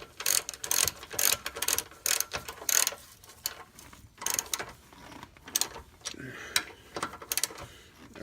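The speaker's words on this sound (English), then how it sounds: "just tighten it up, not bring it to torque specs, just so that it's not flopping around" A hand ratchet clicks in short bursts while snugging a bolt on a Lexus IS lower control arm during a bushing install, close and moderately loud with uneven pauses between strokes.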